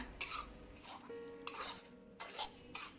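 Textured vegetable protein is stir-fried in a pan until dry, with soft rhythmic scraping and clinking strokes of a utensil over a faint, low sizzle, heard quietly and up close.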